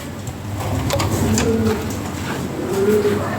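Fancy pigeons from a top-quality collection coo in soft, low repeated calls, with steady chatter of a flock close by and no talk over them.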